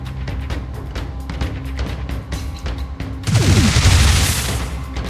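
Weapons firing on a target in Phoenix Point: a rapid string of sharp gunshots for about three seconds, then a heavier, louder booming burst that rolls on to the end, alone and close.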